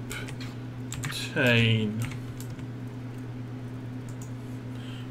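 Typing on a computer keyboard in the game 7 Days a Skeptic, a light steady clatter of keys heard under a man's speech and a constant low electronic hum.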